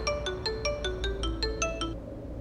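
A phone ringtone chimes in a repeating electronic melody of about ten short beeping notes, moderately loud over a low background hum, stopping after about two seconds.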